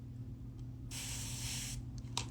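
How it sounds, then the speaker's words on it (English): A handheld spray bottle mists water onto hair during a wash-and-go curl routine, one continuous hissing spray lasting nearly a second, close and fairly quiet over faint room noise, with a few small clicks after. "So I'm just gonna spray. I love this spray bottle."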